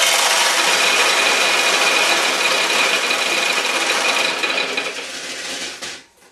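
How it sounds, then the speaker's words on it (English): Steel pachinko balls pour out of a Monako pachinko machine in a continuous rattling, clattering rush that runs for several seconds and then abruptly stops. "I'm going to empty the balls out of the machine"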